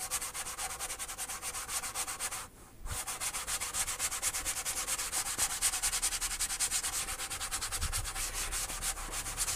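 Sponge steadily rubbing and burnishing the finish on a Stagg guitar, a continuous close scrubbing texture with one brief pause partway through.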